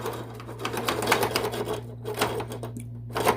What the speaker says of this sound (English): is your fan going like this?